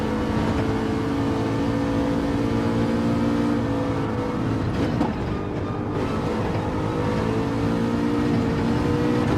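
Aston racing car engine in Gran Turismo 7 on a track, a loud steady high-revving drone with strong tonal harmonics, briefly dipping mid-pass before resuming at full pitch.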